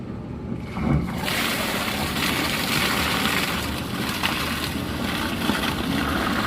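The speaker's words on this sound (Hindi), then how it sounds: "ये अभी अर्थ में पानी डाल रहे हैं।" Water poured into an earthing pit, a steady loud rushing and splashing that starts abruptly near the beginning and continues without pause, with no speech.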